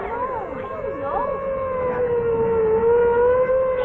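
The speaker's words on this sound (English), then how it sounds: "Hey, look at the ambulance." A siren wails in long sustained rising and falling tones, fairly close and steady, in a 1949 television drama scene, with other sound faintly beneath it.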